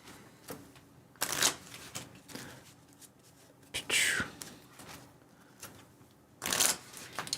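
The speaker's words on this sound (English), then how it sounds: "And I shuffle." Playing cards shuffled during a Netrunner card game: three quick, crisp riffling bursts separated by quieter gaps, close to the microphone, with a soft voice murmuring in between.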